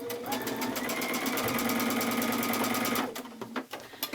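A sewing machine stitches quilt pieces in one loud, continuous whir lasting about three seconds, then cuts off into light clicks and rustling close by.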